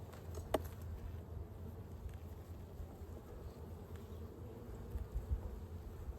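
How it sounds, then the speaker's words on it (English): A low, steady hum of honeybees from an opened hive, a soft continuous drone heard close but quiet, with one brief tap near the start. "I'm trying to listen to the hive."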